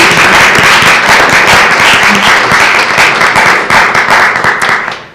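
A crowd at a community address applauds loudly with dense, rapid clapping that continues steadily before starting to fade toward the end.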